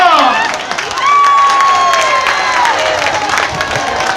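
Spectators applaud and cheer as a lone rider leads a spring amateur cycling road race in Stanghella, Italy: sustained clapping and excited shouts from a roadside crowd, loud and continuous, with a whistle-like tone rising through the noise.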